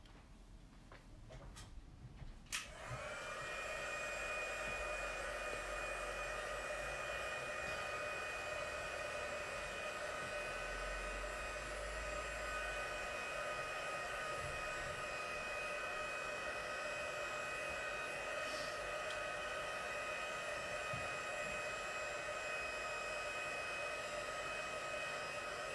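A hair dryer blows a steady, close whooshing roar while drying a mixed media scene box, switching on after a few brief handling clicks and then running continuously without speech.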